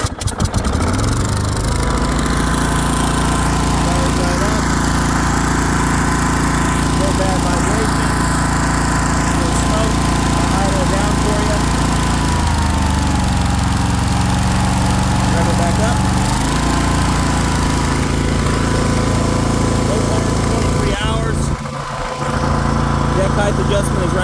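Cub Cadet RZT S 50-inch zero turn riding lawn mower engine starting up and then running at a steady, loud drone, with a brief change in pitch near the end.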